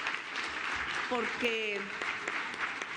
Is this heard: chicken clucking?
no